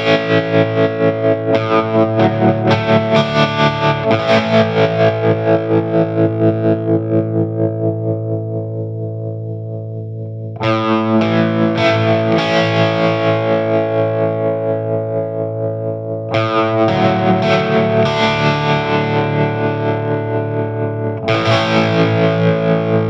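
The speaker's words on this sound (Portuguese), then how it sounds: "com o meu Marshall JCM800 alterando o shape para que você ouça esse batimento aumentando e tendo essa sensação de corte no som como um trêmulo convencional" A harmonic tremolo pedal feeding a Marshall JCM800 amp's creamy drive gives sustained overdriven guitar chords that pulse in a steady rapid throb, each strum decaying before the next loud attack.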